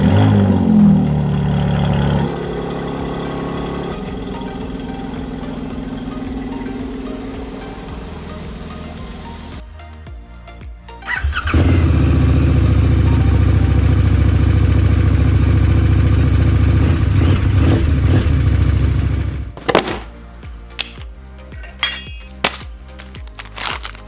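A Mercedes-AMG car starts up and idles with a deep, loud rumble, goes quiet briefly, then roars strongly as it is driven out of a garage, followed by a few sharp knocks and clatters.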